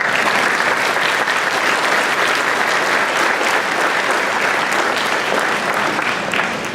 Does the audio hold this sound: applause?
yes